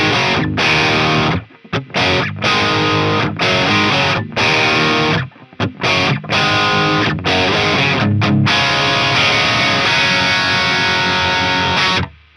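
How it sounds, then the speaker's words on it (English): Heavily distorted British-style overdrive electric guitar through the Mercuriall Euphoria amp plugin, voiced as a cranked Marshall-type tone, playing loud chopped rock riffs with abrupt stops and short silences between chords. "the British sound PA overload, which I assume is just a really cranked Marshall type sound"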